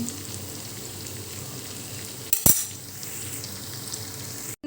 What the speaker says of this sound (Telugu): చూడండి, ఇలా ఫ్రై అవుతున్న చికెను.